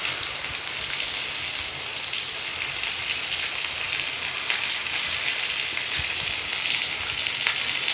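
Neem leaves and chopped ingredients sizzle in a pan, a steady bright hiss of frying, even and continuous with occasional small crackles and no talk.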